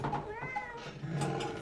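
A cat meows close by, a drawn-out rising and falling call heard over a steady mechanical hum from pinball equipment.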